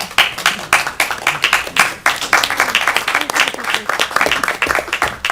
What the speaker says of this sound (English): That might be the one and only time anybody's ever clapped for an MCAS presentation